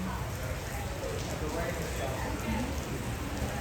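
Steady rain pours down at an outdoor celebration question-and-answer session, a dense, even hiss filling the whole span with no pauses.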